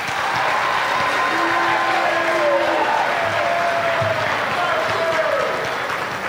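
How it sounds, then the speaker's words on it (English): Loud, sustained audience applause with cheering fills a school formal assembly, a dense steady wash of clapping with a few whoops and voices rising through it. "Let's give a round of applause for Miss Anna Ells and Mr. Michael Mercurio III."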